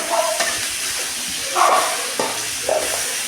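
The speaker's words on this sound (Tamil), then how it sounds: "அலசி வச்ச சிக்கனை இதோட நான் வேக வைக்கிறேன் இதில் வதக்கிக்கிறேன்" Country chicken sautéing in hot oil, a steady close sizzle broken by a few scraping stirs of a spoon against the pan.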